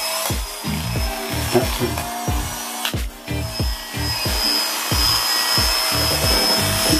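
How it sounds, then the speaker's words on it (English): Electric hair clippers buzz steadily during a home boys' haircut, close and continuous, with rhythmic rubbing strokes and a brief spoken word. "So this is my clippers, you just turn it on, turn on the blade."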